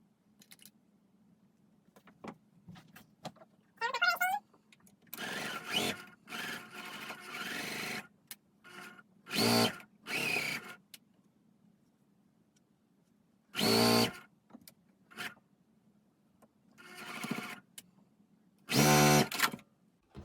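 A sewing machine stitches a quilt block in several separate bursts of rapid mechanical whirring, each a second or two long, with quiet handling and fabric rustle between runs and a faint low hum throughout.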